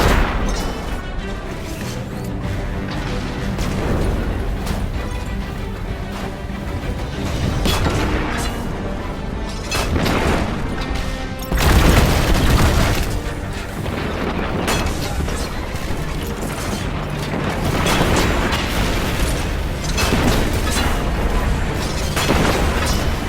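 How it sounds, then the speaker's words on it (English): Red Legion tanks in the video game Destiny 2 fire repeated heavy booming blasts over a dense, loud game soundscape, with bigger explosive bursts landing near the middle and toward the end. "Of course the Red Legion have tanks too."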